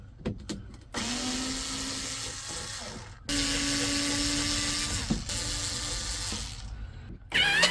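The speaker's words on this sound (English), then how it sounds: "using the electric screwdriver" Electric screwdriver backing screws out of a Land Rover door panel, two long whirring runs with brief stops and clicks between them, close and fairly loud, no voices.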